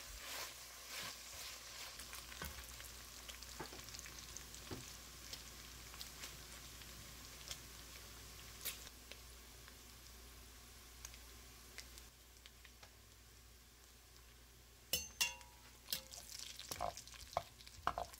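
Bacon sizzles quietly in a soup pot, a soft continuous frying crackle dotted with light ticks and pops, with a few sharper utensil scrapes and stirring knocks near the end, no voices.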